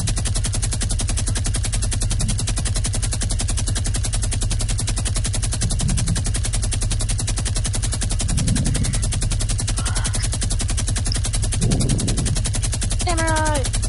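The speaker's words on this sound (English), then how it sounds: "I'm just using this mini gun and see how long I can shoot it." Video-game minigun firing in one long unbroken burst, a dense rapid rattle that stays loud and even throughout, with a few brief voice sounds and game tones over it.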